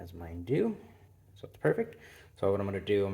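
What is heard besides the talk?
No everyday noise stands out behind the speech.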